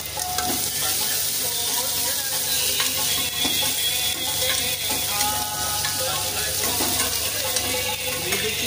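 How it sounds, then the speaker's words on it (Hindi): Chopped onions frying in a pan for lauki chana, a dense, continuous close sizzle with scraping stirring strokes throughout. "ये देखिए, प्याज भी हम यहाँ पे भून रहे हैं।"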